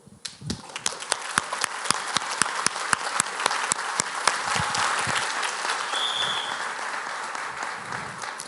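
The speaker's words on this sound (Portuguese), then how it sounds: "Deixa eu aplaudir vocês" Dense audience applause fills a hall at a political talk, building from scattered claps into a steady, loud ovation that holds throughout with no voices over it.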